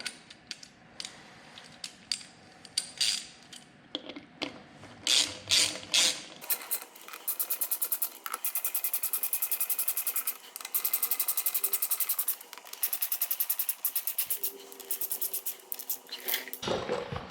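A bolt on a BMW R1200RT motorcycle valve cover is tightened with a ratchet, first a few scattered clicks and handling noises, then a long run of rapid, close, even ratcheting clicks.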